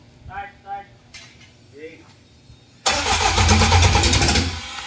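A stock K24 car engine starts with a loud, sustained roar after a few seconds of quiet voices and small clinks, then runs steadily at a high rev.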